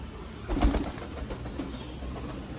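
A pigeon gives a soft, low coo close by against a steady outdoor hum, with a faint flutter nearby.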